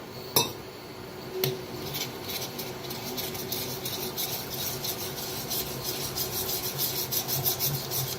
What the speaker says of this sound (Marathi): तर थोडं थोडं पाणी ओतून बेसनला मिक्स करून घेऊया